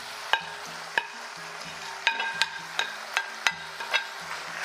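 Zucchini is added to beef frying in a pan for a bake, a low sizzle broken by repeated sharp clacks and scrapes of a utensil stirring, with no voices.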